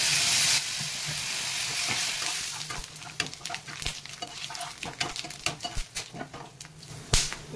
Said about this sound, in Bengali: 2টো তেজপাতা, 2টো শুকনো লঙ্কা, 5টা এলাচ, 5টা লং, আর একটা দালচিনি, আর এই জিরা।